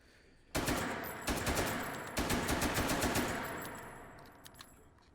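Rapid automatic gunfire from a gun in the VR shooter game H3VR, several loud bursts of fast repeated shots, then a few scattered single shots and a faint metallic ring as the magazine runs dry.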